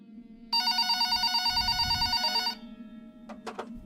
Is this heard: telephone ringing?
yes